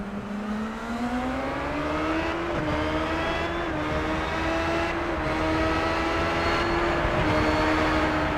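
A loud onboard IndyCar engine drones steadily at World Wide Technology Raceway, its pitch climbing and briefly dipping at gear shifts, with no voices.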